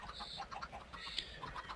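Little chicks chirping inside a chicken processor machine, with soft, repeated high peeps close by over a faint mechanical background.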